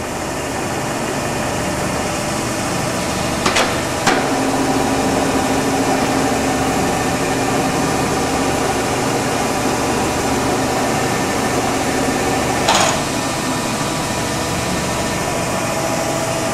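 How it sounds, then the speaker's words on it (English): A Gould & Eberhardt Model 14 plain tool room horizontal shaper moves its knee up under rapid traverse, a steady loud mechanical drone with a few brief clicks and a faint tonal whine. "rapid traverse of the knee going up"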